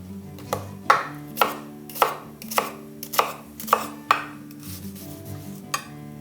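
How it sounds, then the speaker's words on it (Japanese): A knife dices an onion on a cutting board, about a dozen evenly spaced firm chops ringing close and clear with no talk. "これらをカットしていくんですけれども、まずは玉ねぎ"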